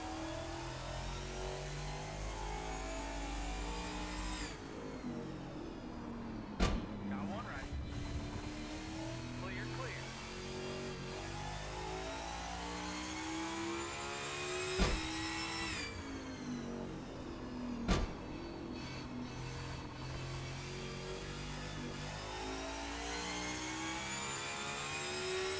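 In-car engine of a NASCAR 21 race car in the video game, a loud continuous drone that rises and falls with revving and shifting through the lap, with a few sharp transient spikes and no talking.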